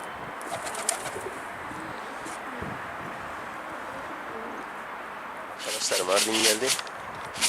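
Migratory birds call outdoors over steady wind-like hiss, with chirps scattered throughout and a louder burst of calls near the end; people talk in the background.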